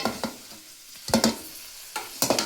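Tomatoes frying with golden-browned onions and garlic in a pan for a drumstick stir-fry, a soft steady sizzle broken by several bursts of scraping stirring, close and fairly quiet.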